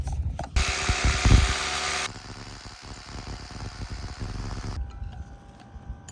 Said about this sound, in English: Drilled these 7 inches deep.